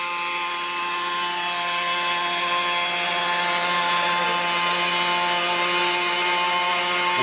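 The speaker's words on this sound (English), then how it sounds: "of course this sounds a little bit like a lawnmower" A steady, buzzing engine drone from a fuel-powered drone, like a lawnmower, loud and continuous with a constant pitch, no voices.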